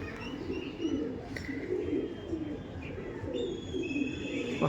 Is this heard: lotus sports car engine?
no